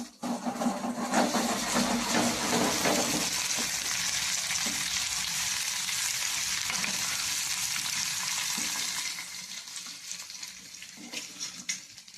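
Brinjal (eggplant) fry being stirred in a pan, a steady close sizzle with scraping stir strokes that eases to a softer crackle near the end.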